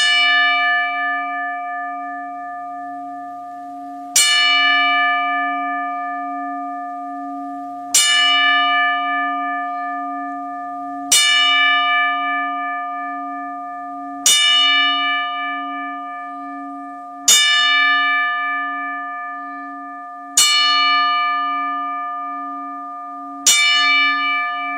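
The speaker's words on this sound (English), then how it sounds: "please join us in a 10-bell salute" A wrestling show's ten-bell salute in tribute: a single ringside bell is struck repeatedly at a steady pace of roughly one strike every three seconds. Each clear metallic ring decays into the next, with no talk.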